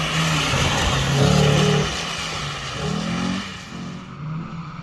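A newly built Mini rally car on a rally stage, its engine revving hard and shifting through gears as it passes, loud at first and then fading into the distance.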